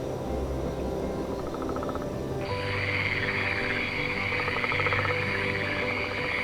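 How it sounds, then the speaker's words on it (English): Frogs croaking in a night forest, a steady dense chorus of rhythmic calls layered with insect trilling, continuous and fairly close throughout. "The croak, which to us sounds like song, is actually a territorial declaration and a reproductive call."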